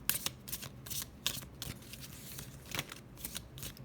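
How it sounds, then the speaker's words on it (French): Tarot cards are shuffled and drawn by hand, a soft, close riffling and flicking of the deck with quick repeated snaps, faint and alone. "Je vais encore tirer une carte."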